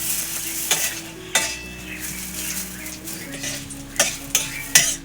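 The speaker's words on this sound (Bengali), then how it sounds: "সব একসাথে নেড়ে নেব।" Spices, cashews and raisins stirred together in a hot pan, a soft steady sizzle under sharp scrapes and taps of a spoon against metal, several clacks clustered near the end.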